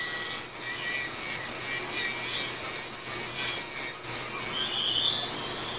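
A small electric mini shaver cutting through beard hair, a steady high whirring buzz held close up with slight scratchy fluctuations as it moves across the face, running continuously on its own.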